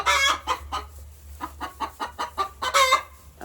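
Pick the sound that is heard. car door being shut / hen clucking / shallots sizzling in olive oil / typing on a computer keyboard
hen clucking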